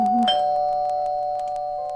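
A doorbell rings inside a visual novel game, a single electronic ding-dong chime with a sustained tone that fades slowly, heard alone.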